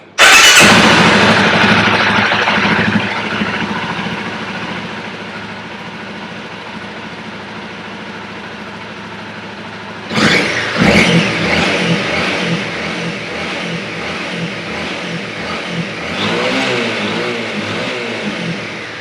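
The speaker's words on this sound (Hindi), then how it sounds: "तो अभी मैं आपको सुनाने जा रहा हूँ स्टॉक साइलेंसर की साउंड।" A Honda CBR250R motorcycle with its stock silencer, warmed up, starts and revs hard toward 8000 RPM, then drops and revs again in rising and falling sweeps, loud and close, with no talk.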